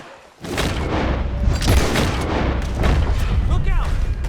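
Enemy gunfire from a tower in the video game Red Dead Redemption 2 booms repeatedly in a dense volley of shots, with voices shouting over the shooting.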